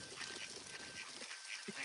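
Ducks quack softly in a few scattered calls over a steady broadband hiss, with no talk.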